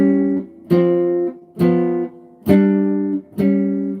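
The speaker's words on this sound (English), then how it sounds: "the main shell voicing is really just the 3rd and 7th." Jazz shell voicing chords of only the third and seventh, struck four times in an even, unhurried rhythm with each two-note chord ringing and sustaining, played alone without talk.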